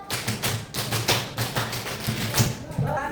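Students clapping in unison during a scout clapping game in class, several quick sharp claps in a steady rhythm, mixed with voices talking and chanting underneath.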